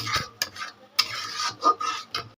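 A spoon works through a mustard spice paste for hilsa, mixed with turmeric and salt, making short wet scraping strokes and light clinks in an irregular rhythm, close and fairly loud, with no speech.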